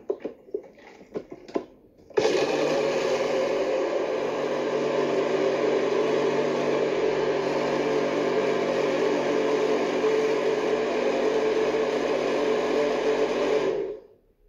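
A blender making a mint and lemon smoothie whirs steadily and loudly for about twelve seconds after a few brief clatters, then cuts off abruptly.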